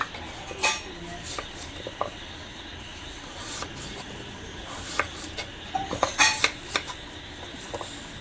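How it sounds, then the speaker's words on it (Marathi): A knife cuts a pumpkin into small pieces in a home kitchen while cooking Nagpur-style pumpkin bhaji; soft, sparse clicks and taps of blade on board at close range, fairly quiet. "तोपर्यंत आपण भोपळा कापून घ्यायचा"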